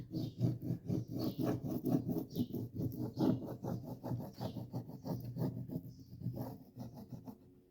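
A transfer being rubbed onto a free secondhand dresser with a small stick, giving steady close scratchy rasping strokes in a quick repeating rhythm with no talking.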